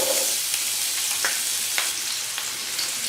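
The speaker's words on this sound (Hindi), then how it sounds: "ऑयल गर्म हो चुका है, अब मैं इसमें प्याज शामिल कर दूँगी।" Onions going into hot oil in a pan for an aloo dish, a steady broadband sizzle and frying hiss throughout with a few brief scrape or stir clicks, fairly close and alone without talk.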